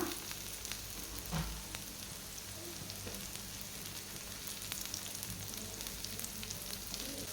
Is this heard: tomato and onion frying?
yes